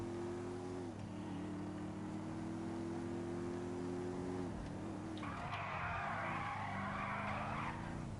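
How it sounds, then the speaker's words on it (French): A car in GTA 5 skids with a sustained tire squeal over a droning engine tone that dips and rises, loud and continuous for several seconds with no talking. "Oh là là, ce dérapage."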